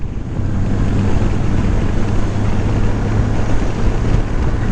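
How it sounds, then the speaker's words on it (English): Strong outdoor wind buffeting the microphone on a very gusty day, a continuous loud roaring rumble with steady low thudding and no voices. "a day like today where the wind's blowing really hard"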